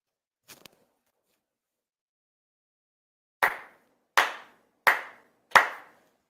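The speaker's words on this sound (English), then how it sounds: "Chido Haire, 4 sincere claps." Four sincere ritual hand claps at a Tenchi Kane no Kami monthly shrine ceremony, sharp and evenly spaced in a quiet room, preceded by a faint soft double tap.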